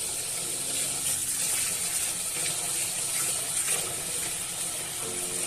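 A tap runs steadily into a sink while something is washed under it during biryani cooking, a continuous close hiss of water with light clatter and no pauses.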